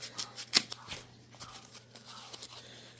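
Scissors cutting material for Doberman ear posts, a few quick close snips and crisp rustles, one louder cut near the start, then softer handling noises.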